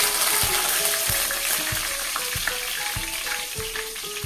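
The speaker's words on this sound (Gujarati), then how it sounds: "ત્યાર પછી એડ કરી દઈએ આપણે મીઠા લીમડાના પાન" Curry leaves hit hot oil already holding cumin and asafoetida, bursting into a loud, steady sizzle with regular stirring taps beneath it, for a dhaba-style North Gujarati tuver totha curry.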